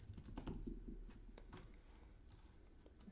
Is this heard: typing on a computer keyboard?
yes